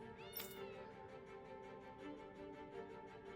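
A cat meows in the fantasy role-playing game Tales of Arise, a short clear mew over steady background music and ambient game sound.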